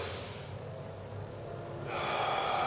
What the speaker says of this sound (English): In other words, we do a heavy breathing.